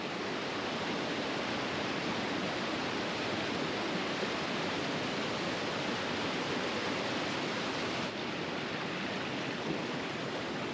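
Constant loud roar of High Falls waterfall in New River Gorge, West Virginia, heard from an overlook as an unbroken, dense rush of water filling the scene with no voices.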